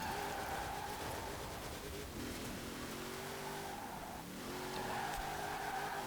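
A 2018 Formula Drift Nissan 370Z, all-wheel drive, drifting around a roundabout in Forza Horizon 4, its engine droning steadily close up while tires squeal and skid in long wavering tones, with a brief easing of throttle midway before it picks back up.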